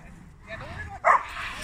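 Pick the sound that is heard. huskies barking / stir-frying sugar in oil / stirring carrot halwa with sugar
huskies barking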